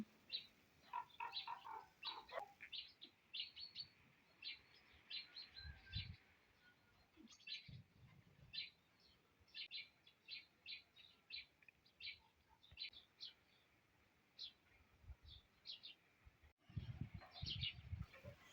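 A family of sparrows chirps outdoors, repeated short, bright tweets in irregular bursts, fairly faint, with occasional low thumps and rustles nearby.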